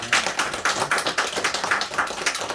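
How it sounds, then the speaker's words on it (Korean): Church congregation clapping in unison to welcome a newcomer during a Sunday morning service, a close, brisk, evenly paced run of hand claps with no talk over it. "우리 박수로 환영해 주시기 바랍니다."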